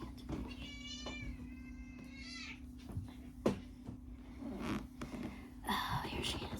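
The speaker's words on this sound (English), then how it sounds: "Let me get this cat" A cat meows several times with rising, wavering cries close by in a shop, under a steady electrical hum with scattered rustles and handling noises.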